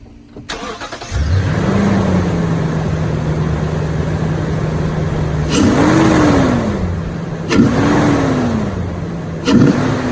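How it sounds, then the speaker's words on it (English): A Toyota Tundra truck engine fitted with an S&B intake and dry filter starts and idles, then revs up three times in spaced bursts, each climbing and falling back to idle, close and loud. "rev it up, and see what we hear with this one"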